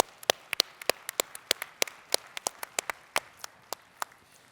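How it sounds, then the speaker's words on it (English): A small audience at a corporate talk on AI gives sparse, scattered handclaps: a few dozen crisp, separate claps in an uneven rhythm, fairly close and without a full roar of applause. "Let's give them a great big round of applause."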